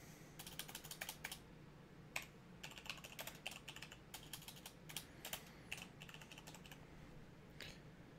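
Someone types text on a computer keyboard, a close, quiet run of quick irregular key clicks in bursts with brief pauses between, no voices.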